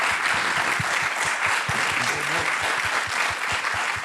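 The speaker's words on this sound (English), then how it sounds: "let's give President Campbell and President McCullough a big round of applause" An audience applauds after a historical talk featuring two college presidents, a steady wash of many hands clapping throughout, fairly loud and close, with no voices on top.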